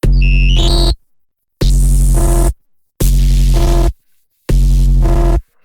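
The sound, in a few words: distorted noise like a malfunctioning printer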